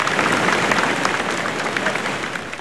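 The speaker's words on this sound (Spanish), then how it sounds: "le brindamos un fuerte aplauso al presidente por esta gran obra que nos entrega" Farmers give a strong round of applause for the president at the inauguration of irrigation works in Barranca, a dense, even burst of many hands clapping throughout, loud and close.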